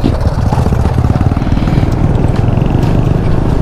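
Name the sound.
Honda PCX scooter riding with Yamaha NMAX nearby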